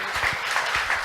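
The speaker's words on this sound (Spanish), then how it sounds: "Démosle, por favor, la más cordial bienvenida con un fuerte aplauso" Audience applause greeting a speaker at a pest-control conference in Peru, a dense steady patter of clapping from a crowd, moderately loud throughout with no talk.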